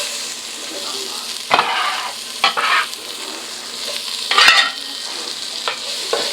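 Chopped onion frying in rendered bacon grease in a pot for chicken corn chowder, a steady close sizzle broken by several louder bursts as the pieces are stirred and scraped around, with no talking.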